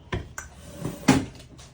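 A small drawer from a vintage Rolodex or craft box being handled, giving a few sharp wooden knocks and clatters, with one louder clunk near the end, close up and with no talking.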